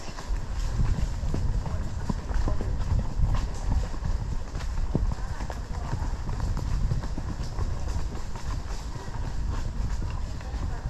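Horse hooves clip-clop steadily on a ride while a horse jig-jogs in place, with close, continuous rhythmic thuds and a person talking over them.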